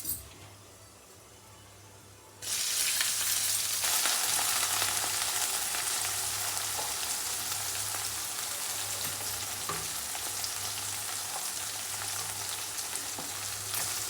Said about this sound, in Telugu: పప్పులు కొంచెం వేగినాయి, ఉల్లిపాయ వేసేస్తాను.